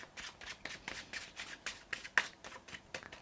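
Bicycle playing cards riffle-shuffled by hand in a rapid run of crisp, close ripples and snaps, with no talking.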